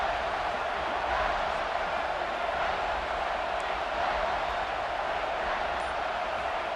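A stadium crowd roars steadily in a Texas A&M vs Arkansas college football video game, a broad, constant wash of cheering that neither swells nor fades.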